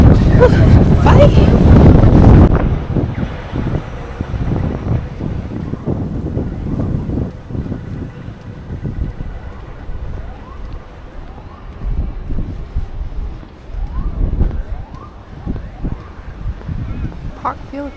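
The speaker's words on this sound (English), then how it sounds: "So it's very nice weather today and very windy." Strong gusty wind buffets the microphone outdoors on a university campus in Melbourne, loudest in the opening seconds and then easing into a steady rumbling bluster with rising and falling gusts.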